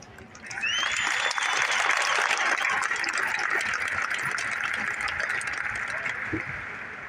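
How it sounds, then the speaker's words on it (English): A graduation audience breaks into applause, rising quickly to a dense, steady clapping that carries on at moderate loudness, with a faint voice or whistle-like tone briefly above it. "Let's applaud their outstanding accomplishments, dedication, and commitment."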